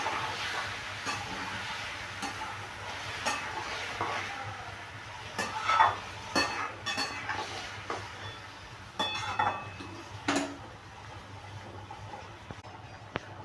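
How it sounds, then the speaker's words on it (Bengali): Pointed gourd and potatoes with turmeric and a little water are stirred in a pan, giving soft, intermittent scrapes and clinks of a spatula against metal over a faint low background hum. "সামান্য একটু জল দিলাম, দিয়ে এটাকে আমি একটু কষিয়ে নিচ্ছি।"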